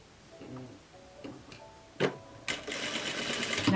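Sewing machine stitching a seam on a beginner's summer jumpsuit, a few short bursts of rapid stitching and then a longer continuous run as it backstitches, close and fairly quiet.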